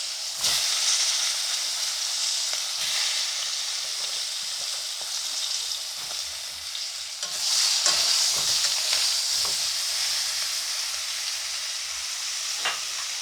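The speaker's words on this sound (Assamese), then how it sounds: "এতিয়া মই মাছ ভাজা তেলখিনিতে দি দিম বেঙেনাকেইটা" Eggplant pieces fry in oil left from frying fish, a loud, continuous hissing sizzle up close, swelling at moments and punctuated by occasional clanks of a spatula, with no speech.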